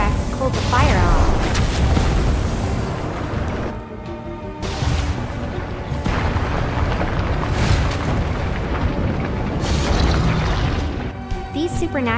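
Meteors crash down and explode in an animated dinosaur battle, with loud, dense booms and rumbling bursts running almost continuously, mixed with animated effects and narration over them.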